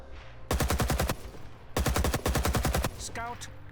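Automatic gunfire from a weapon in the video game Rising Storm 2: Vietnam, two long, loud, rapid bursts of shots separated by a short pause, with faint background noise after.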